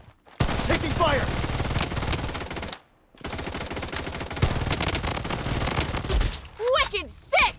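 Rapid automatic gunfire fills a match of the shooter game Blood Strike, dense and loud with a brief pause before another long burst and a few whooshing effects at the end.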